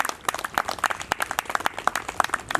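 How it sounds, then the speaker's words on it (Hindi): An audience at a yoga day gathering claps together, a steady patter of many hands with brisk, fairly even rhythm, moderately near and continuing throughout without speech. "एक बार तालियां इनके लिए।"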